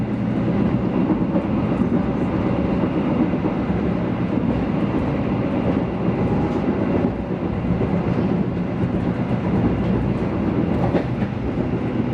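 An Argo Lawu passenger train runs on rails near Bumiayu in Brebes, heard from inside as a steady loud rumble with soft clickety-clack, unbroken for about twelve seconds.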